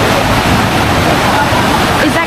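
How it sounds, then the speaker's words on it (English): A fast-flowing river downstream from the Yangtze at Dujiangyan, China, makes a loud, dense, continuous rush of water close by, with no break over the whole stretch. "the water flow is fast and it's faster than the Huanghe"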